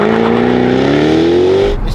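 Jaguar F-Type 5.0 V8 engine revving hard in sport mode, a loud, steady rising roar held close for about two seconds before dropping off at the end.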